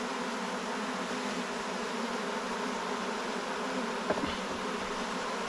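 Honey bees in an open hive give off a constant, even buzz at low volume, the tone of many bees blending together, with one brief soft tap near the end.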